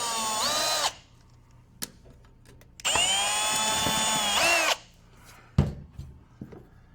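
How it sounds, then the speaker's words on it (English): A power drill whines in two bursts, a short one then a longer one, high and steady, drilling a pilot hole in a metal light fixture, with clicks and a thump between and after. "I strongly recommend drilling a pilot hole in the side of the fixture."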